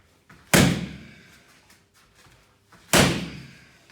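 Two loud hand slaps on a CTG training pad, each a sharp heavy smack with a short dull ring, spaced about two and a half seconds apart in an otherwise quiet room.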